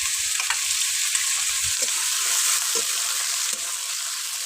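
Mustard seeds, cumin and dried chili crackling in hot oil give a loud, dense, continuous sizzle with faint spoon scrapes underneath.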